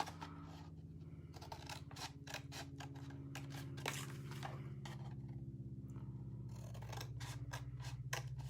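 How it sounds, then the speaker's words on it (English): Scissors snip through cardstock along score lines again and again in a quick, uneven rhythm of sharp crisp cuts, close and clear over a steady low hum, no voices present. "the opposite side, you're going to cut from each score line down to the middle"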